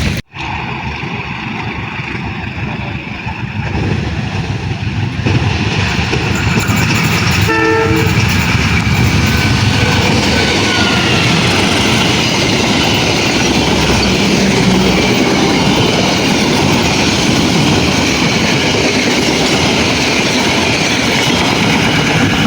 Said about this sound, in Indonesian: itu barusan kereta api Dharma Wangsa Express ya teman-teman, yang melintas langsung stasiun Jatibarang